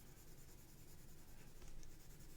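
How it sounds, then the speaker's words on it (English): A watercolor pencil scratches across card paper, coloring a stamped otter's tummy purple, with close, soft, continuous strokes and no talking. "you can grab a watercolor pencil, and we'll make this otter have a purple tummy."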